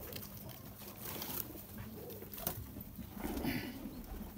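Pigeons cooing at a pigeon keeper's loft, soft low coos heard faintly under a hissy, noisy background, with no talk.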